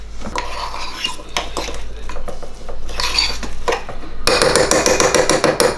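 A spoon stirs ISO protein powder into cream of rice, scraping and clinking loudly against the bowl in uneven bursts before a quick run of rapid taps.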